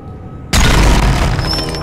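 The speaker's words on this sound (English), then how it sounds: "Okay, the explosion wasn't necessary." A sudden loud explosion in the video game Jade Empire bursts in after half a second of low ambience, then rumbles on as a sustained, heavy roar.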